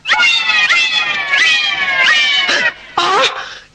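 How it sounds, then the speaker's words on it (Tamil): A cat meows loudly and insistently up close, a string of about six drawn-out, wailing meows in steady succession with brief pauses between them, heard alone. "என்ன நான் குடிக்க வேண்டிய பாலை பூனை குடிச்சுக்கிட்டு இருக்கு"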